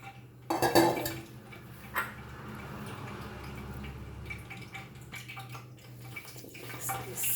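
Spoon scraping and clinking against a bowl as soaked sabudana, tapioca pearl vada mixture is stirred, with soft wet squelches and a steady low hum underneath, close and moderately quiet.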